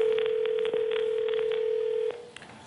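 A telephone ringback tone on a call into a live TV talk show. One steady electronic tone holds for about two seconds and then cuts off, followed by faint room noise.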